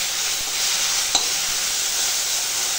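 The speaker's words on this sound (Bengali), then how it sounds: "আর এখানে কুমড়ো ফুল ভাজছি নুন হলুদ দিয়ে" Pumpkin flowers frying in hot oil with salt and turmeric, a steady close sizzle that runs throughout, broken once by a brief stir or clink near the middle, with no talking.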